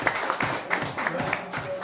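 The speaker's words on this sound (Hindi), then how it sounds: "बट एक बार सर के लिए भी ताली बजा दो यार" A comedy-show audience clapping, an irregular patter of hand claps from a small crowd over a couple of seconds, with a voice talking over it.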